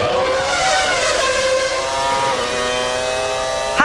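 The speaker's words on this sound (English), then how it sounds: "Hakkinen passing Villeneuve with Coulthard behind him." Formula 1 race cars of the 1997 season racing, with high-pitched screaming engines passing close by, the pitch sweeping and shifting as cars overtake one another, loud and continuous with no voices.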